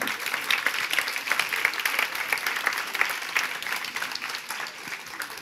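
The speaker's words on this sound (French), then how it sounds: "Encore un tonnerre d'applaudissements pour super, Thomas" Applause from workshop participants at a nonviolent communication session, a steady dense patter of many hands clapping, sustained and fairly loud with no voices on top.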